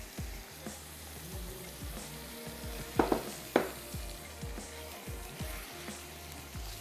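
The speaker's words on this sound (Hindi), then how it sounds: "चलें अब हम इसमें ऐड कर देते हैं ये झींगे शामिल कर लेते हैं, और थोड़ा सा हाई फ्लेम पर ही हम इसको कर लेंगे फ्राई।" Shrimp sizzling in a pan over high flame, a steady low frying hiss with soft stirring scrapes and two brief sharp clatters, close and alone.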